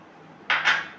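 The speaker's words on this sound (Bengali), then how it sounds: "উপকরণগুলো আমি মেশাচ্ছি" Two quick clinks of a spoon against a bowl while fish kebab ingredients with onion, green chilli and spices are mixed, a close, brief clatter after near silence.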